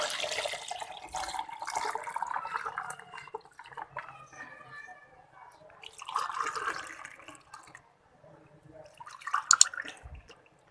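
Tukh malanga sharbat is poured from a container over ice into a serving vessel, giving splashy liquid bursts with quieter gaps and a few clinks, and a voice is briefly heard.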